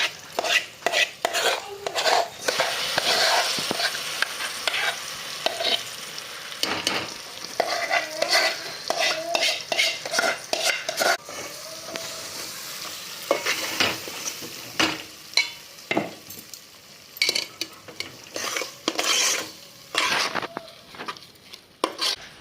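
Boiled moong dal frying with onions in a pan, with steady sizzling under frequent scraping and stirring strokes of a spatula against the metal, close and fairly loud throughout.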